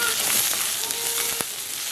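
Onions and chillies with fennel seeds fry in hot oil, a steady, close, hissing sizzle with a few faint pops and crackles running through it, heard alone without talk.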